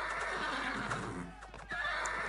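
Horses neighing and whinnying in a medieval strategy video game, with several loud, close whinnies over a dense bed of game noise and faint hoof clip-clop.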